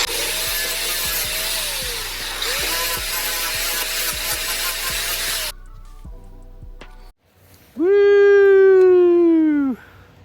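A power grinder cuts down protruding screws on the base of a homemade telemark snowboard. Steady, loud abrasive grinding with a regular ticking rhythm runs about five seconds, then quieter scraping follows, and a sharp wavering high-pitched cry ends it.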